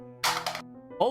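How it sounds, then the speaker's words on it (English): A cell phone drops to the floor and lands with one loud, sharp clack that rings briefly before a voice starts up. "before ultimately falling flat on the floor with a resounding clack"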